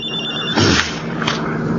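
A cellphone rings in a Filipino classic horror radio drama, a bright electronic ringtone with steady tonal pulses over a low hum, fairly loud and close, with no talk over it.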